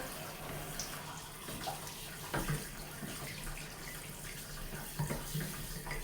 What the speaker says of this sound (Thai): ล้างถ้วยล้างชาม